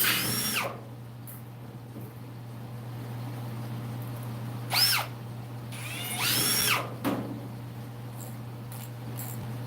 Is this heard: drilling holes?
yes